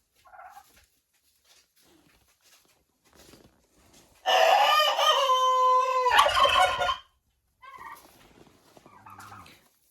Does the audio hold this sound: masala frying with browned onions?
no